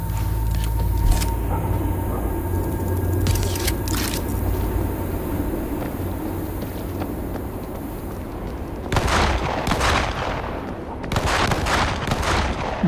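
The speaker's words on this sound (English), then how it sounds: "Gunfire from the bus!" Gunfire in the zombie shooter World War Z on PC, with dense crackling shots erupting in bursts over a steady rumbling game background, loud and close, with heavier volleys near the end.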